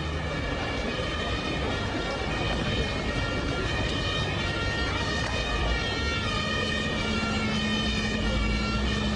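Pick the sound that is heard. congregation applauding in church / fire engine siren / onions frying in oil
fire engine siren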